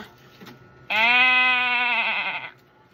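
One clear, wavering goat bleat sounds close by for roughly a second and a half, standing alone against a quiet background.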